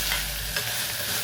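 Soya chunks hit a hot pan already frying onion, chili, curry leaves and coriander, giving a loud close sizzle with a brief stirring scrape partway through.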